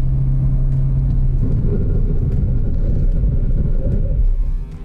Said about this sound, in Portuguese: Então freia na, na reta molhada e joga o carro um pouco para a direita para desviar dos cones.